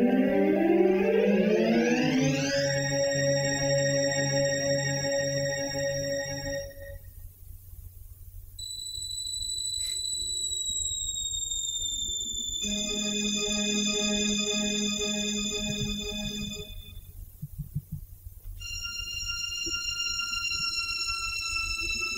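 A musical reduction of glissandi from Xenakis's Metastaseis: sustained electronic-sounding tones slide and converge, then hold steady pitches in separate blocks over a low hum, with a quiet pause between phrases and no voices.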